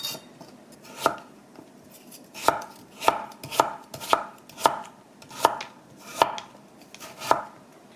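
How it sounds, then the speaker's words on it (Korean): A knife chops carrots on a cutting board, about ten crisp, close knocks in a loose, uneven rhythm against a quiet background. "당근을 썰어 보겠습니다."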